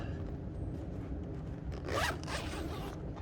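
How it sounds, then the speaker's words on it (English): Zippers being undone on a Yakima SlimShady awning cover for a Subaru Outback Wilderness, a steady close zipping rasp that swells into a louder, longer pull near the middle. "Let's go ahead and undo the zippers."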